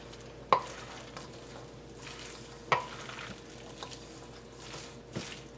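A spaghetti frittata frying over low-medium heat in a pan, a soft continuous sizzle broken by a few sharp utensil taps and scrapes.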